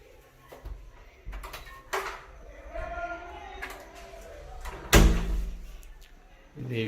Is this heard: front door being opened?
yes